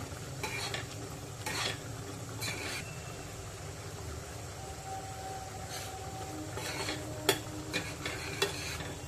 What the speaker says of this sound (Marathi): आता आपण थोडंसं खोबऱ्याचं वाटण घालूया। आणि 1 चमचा गरम मसाला दोन्ही मिक्स करून घेऊया।